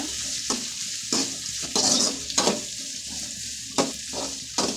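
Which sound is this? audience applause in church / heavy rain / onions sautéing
onions sautéing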